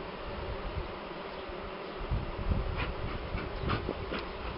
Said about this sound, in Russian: загоняю дымом пчел, они туда и под доской там идут